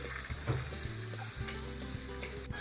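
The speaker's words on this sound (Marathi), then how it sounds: "ह्याच्यावर टाकायचं आपल्याला लसूण आणि आलं. ह्याला फ्राय करून घ्यायचं." Garlic and ginger frying in a few spoonfuls of hot oil for a mutton dish, a steady close sizzle with occasional stirring scrapes and clinks, no talking.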